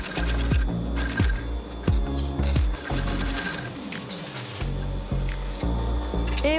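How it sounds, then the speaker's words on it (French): Heavy-duty sewing machine stitching thick upholstery seams with strong thread while reupholstering a 1970s Alki armchair by Giancarlo Piretti for Anonima Castelli; close, loud mechanical bursts of rapid stitching separated by brief pauses. "Je vais pouvoir commencer à coudre."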